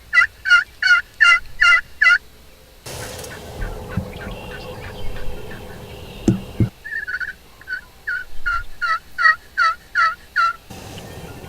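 Two bursts of rapid, rattling gobbles from wild turkeys, several in quick succession each time, separated by a stretch of rustling and scuffling, fairly close and loud.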